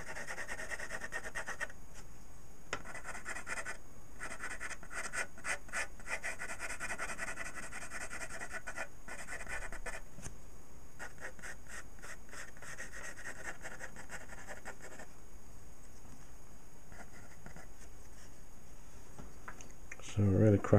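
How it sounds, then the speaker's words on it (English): A putty rubber eraser rubbing over a pencil drawing of a demon skull, a close, soft, continuous scratchy friction in uneven bursts and pauses, fairly quiet with no voice over it. "I'm going to do some putty rubber highlights"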